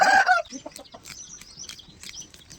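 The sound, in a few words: country chicken (natu kodi) clucking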